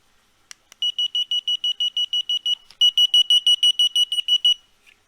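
An ESKY KF06A key finder sounds a loud, sharp electronic alarm right beside the microphone, a fast string of evenly spaced beeps, then a brief pause, then another run of beeps.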